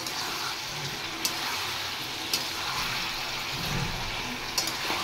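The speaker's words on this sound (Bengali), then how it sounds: "এবার আর একটু ফ্রাই করব।" Vegetables fry in a pan for a Bengali rohu fish curry, with a steady, even sizzling hiss and a few faint clicks of stirring throughout.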